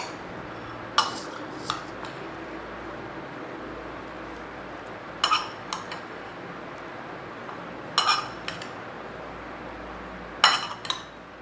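Spoons or utensils clink against a bowl while tomatoes and red beans are mixed for a rajma macaroni chaat, in four sharp pairs of clinks spaced a few seconds apart over quiet room background.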